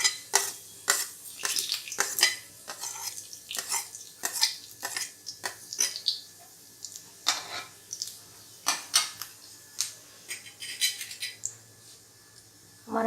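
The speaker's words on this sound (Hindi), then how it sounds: "तेल मैंने पहले से ही डाल रखा था कढ़ाई में। इसमें जीरा डालना है सबसे पहले।" Cumin seeds drop into hot oil in a kadai, giving a string of sharp clinks, scrapes and light crackles from the pan, fairly close and with no talking.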